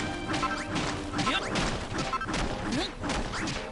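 Objects are smashed repeatedly in the video game Dragon Quest Builders 2, with a rapid series of sharp crashing whacks and swishes falling about every half second, loud and close, with game music tones underneath.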